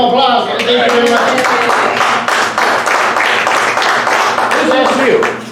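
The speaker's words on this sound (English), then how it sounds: "How about a round of applause?" A bar crowd claps and applauds steadily at a comedy set, the sound dense and close, lasting several seconds before easing off at the end.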